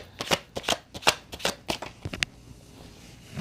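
A deck of tarot cards is shuffled by hand in a quick series of crisp riffling flutters, close up, then trails off into quiet.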